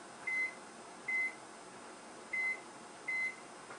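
Four short, identical electronic beeps from a kitchen timer being set sound at a steady spacing over a quiet background hum.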